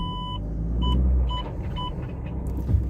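A faulty car gearbox makes a low rumbling drone with something flapping around inside, while repeated electronic beeps sound over the vehicle noise.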